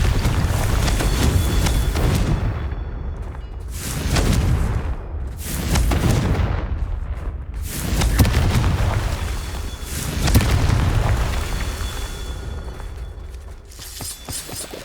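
Confringo fire spell explosions in the Hogwarts Legacy video game, a run of heavy booming blasts and crackling bursts with a loud, continuous rumble between them.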